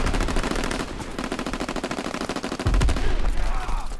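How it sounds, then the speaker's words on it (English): Fighter plane strafing the ground with its machine guns in Call of Duty WW2 on the Ardennes Forest map, a steady fast rattle of gunfire with a heavy impact thump near the end. "Call for a strafing run."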